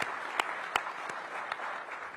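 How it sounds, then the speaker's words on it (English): Applause for two co-chairs of the Gallery Place Chinatown area at a Washington, DC civic announcement, a steady moderate crowd clapping with a few sharper claps standing out. "Give those ladies a big round of applause."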